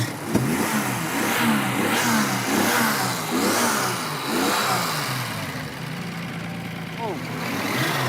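A 1978 Datsun 260Z with a 2.8 litre engine revs repeatedly in rising, falling bursts, loud and close, needing a tune-up after standing for a long time; people talk over it.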